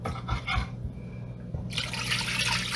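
Water being poured into fish sauce while cooking fried fish, a short close trickle and splash of liquid filling a container, with no talking.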